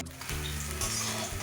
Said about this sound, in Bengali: আবারও কিছু মাছ ভাজতে দিয়েছে